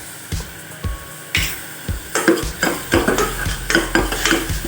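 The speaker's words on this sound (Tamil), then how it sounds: "இப்போ இஞ்சி பூண்டு பேஸ்ட் ஆட் பண்ணிக்கலாம்" Ginger garlic paste sautéed in a pan for vegetable kuruma, with steady rhythmic stirring scrapes and a light sizzle building underneath, close and alone.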